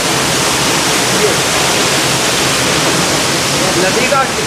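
Nevsa waterfall and its river roar as a dense, loud, unbroken wash of rushing water, close by and steady throughout.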